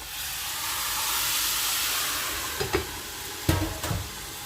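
Syrup poured onto roasted semolina for halva, a loud steady sizzling hiss of steam with a few sharp clinks of a spoon against the pot near the end.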